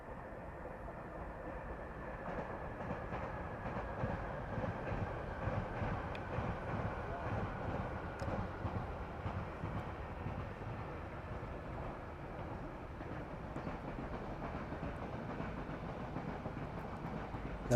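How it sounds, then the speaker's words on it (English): Train passing below in Wembley, London, heard from a hovering drone: a steady, broad rumble lasting the whole stretch, partly masked by constant rotor whine, with no clear approach or fade. "Got a train coming, I can hear it."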